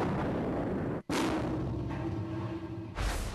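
Explosive blast against a concrete block wall in a protective coating test, a sudden loud boom that cuts out abruptly and is followed by a rumbling roar and then a second burst.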